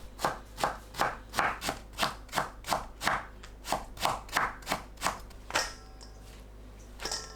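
A knife cuts eggplant into 0.5 cm slices and julienne strips on a board, giving about a dozen crisp, evenly spaced chops in a steady rhythm, close and clear, before a brief rustle at the end.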